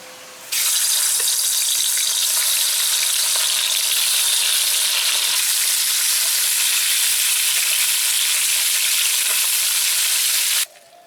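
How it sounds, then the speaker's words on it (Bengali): Fish seasoned with salt, turmeric and chili fries in hot oil over a clay stove, a loud steady sizzle bursting in suddenly and holding evenly before cutting off near the end. "এবার মাছ ভাজবো।"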